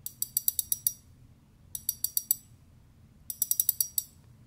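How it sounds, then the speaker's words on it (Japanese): The drag of a Shimano 22 Exist spinning reel, made with a magnesium body and CI4+ rotor, clicks in three quick bursts of about five to six sharp ratcheting clicks each, close and crisp over a quiet background. "じゃあちょっとドラグ見ていきましょうか。"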